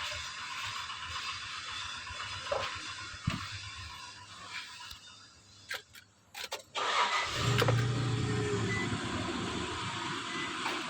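A 2003 Nissan Frontier pickup, with a few clicks and knocks first, then the engine cranks and catches partway through and settles into a steady, close, even idle.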